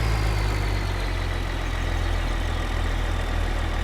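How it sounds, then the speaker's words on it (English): A lawn mower engine idles steadily in a farming video game, a continuous low rumble with no talk over it. "go park our mower back in here."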